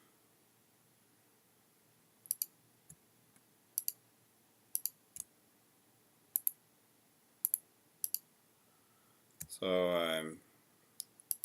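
Sharp, distinct mouse clicks arrive in pairs roughly every second while polylines are drawn in CAD geometry software, with a soft voice briefly heard and a short burst of rustling near the end.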